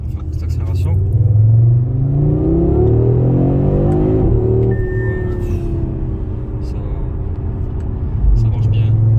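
A 2021 Audi RS3 8Y five-cylinder accelerates hard, its engine note climbing steadily in pitch through the gears, loud and close from inside the car with someone speaking over it.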